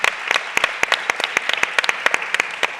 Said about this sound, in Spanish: Despediríamos con un fuerte aplauso a Marta